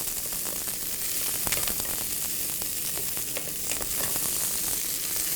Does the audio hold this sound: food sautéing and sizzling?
yes